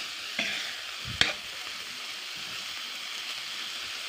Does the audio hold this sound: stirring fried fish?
yes